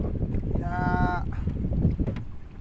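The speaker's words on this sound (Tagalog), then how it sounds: "Grabe, lakas ang hangin." Steady gusting wind buffets the microphone with a low rumble, while a brief whistle-like tone rises over it.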